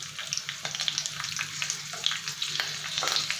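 Curry leaves and a large green chilli sizzling in hot oil for a prawn curry, a close, steady crackle with quick sharp pops throughout, no voices.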